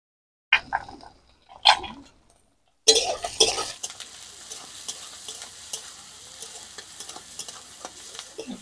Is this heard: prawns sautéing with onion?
yes